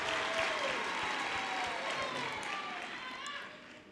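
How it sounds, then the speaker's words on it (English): Audience applause fills a graduation ceremony hall, a broad steady wash of clapping from a large crowd that holds loud throughout and tapers slightly toward the end. "Give them a round of applause."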